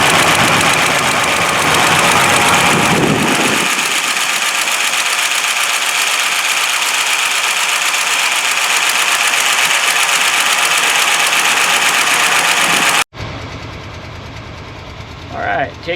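A 1955 Ford Fairlane with unusually long mufflers idles roughly, a loud steady engine rumble with a knocking, ticking character running throughout, briefly dropping out near the end.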